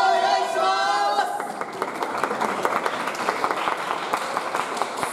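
A crowd applauds and claps along at a YOSAKOI dance performance, broad applause fading into steady rhythmic hand clapping beneath a brief announcer voice at the start.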